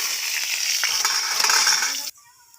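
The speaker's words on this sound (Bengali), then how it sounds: "এবার আমি আলুটা ভেজে নেব।" Potatoes fry in hot oil in a kadai (wok), giving a loud, steady close sizzle with a few stirring scrapes that cuts off abruptly after about two seconds into near silence.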